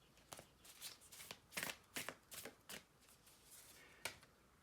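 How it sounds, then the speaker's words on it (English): Tarot cards are shuffled in a quiet room in a run of soft, close riffles and flicks, about eight brief bursts spread unevenly, with a final crisp snap near the end and no talking. "We'll just shuffle the cards one more time."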